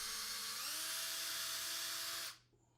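A power drill boring pilot holes through a custom dishwasher door panel, a steady high whine that rises in pitch once, runs for about two seconds and then stops abruptly.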